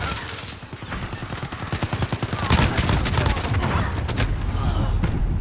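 Rapid video game gunfire, a fast run of close, loud shots that builds into a dense barrage, with a voice briefly talking over it.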